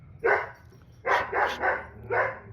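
A dog barks four or five times nearby, one bark then a cluster of three and a final one, with short quiet gaps between.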